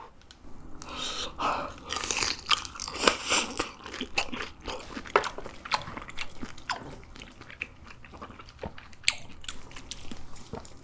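Someone bites and chews crunchy grilled Korean beef intestines (daechang) up close. The crisp crunches and wet chewing come in irregular bursts, loud and alone, with no talking.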